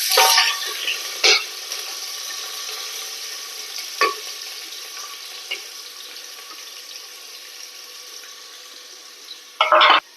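Onion with cardamom and cloves frying for beef biryani makes a steady close sizzle, with a few sharp clinks of a spoon against the pan near the start and at the end, and no voices.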